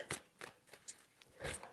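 Tarot cards are shuffled in a few quick, soft riffling bursts, close and quiet, with short pauses between each shuffle.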